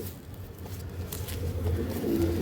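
Pigeons offered for sale in Hooghly coo steadily at close range, a low continuous murmur of several birds with a faint background hum and no talking.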